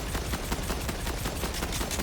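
Rapid explosive weapon fire from sticky grenades in Borderlands 4, a dense, continuous burst of sharp pops and blasts repeating steadily at close range with no voices.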